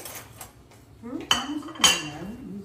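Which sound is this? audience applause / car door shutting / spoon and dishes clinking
spoon and dishes clinking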